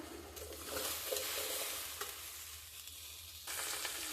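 Okra for a curry is dry-fried in a pan and stirred, with soft sizzling and scraping strokes of a spatula repeating close by, no voices.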